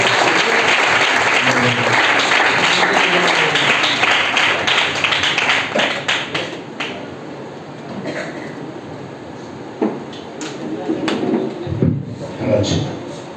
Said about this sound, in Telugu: చప్పట్లు కొట్టి దేవుని దాసులు ఆహ్వానిద్దాం